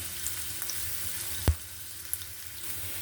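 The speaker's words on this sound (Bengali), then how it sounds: "পেঁয়াজ ভাজাটা আমার হয়ে গেছে" Chopped onion and green chillies frying in oil with a bay leaf, a soft continuous sizzle close up, punctuated by a single sharp clack from a utensil midway and a few faint ticks.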